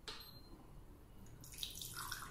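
Hot water streams from a Laikeda electric smart thermo pot, a quiet, steady pour with light splashing and trickling as it fills, no talking over it.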